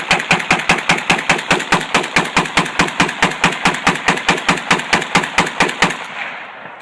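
Century Arms C39V2 AK semi-automatic rifle fired in a rapid, evenly paced string of about twenty-five loud, close shots, ending with a short echoing decay and no talk.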